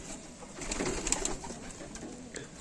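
Pigeons coo steadily nearby, low throaty calls rising and falling without talk; among them is a female bird of a show or sport breed.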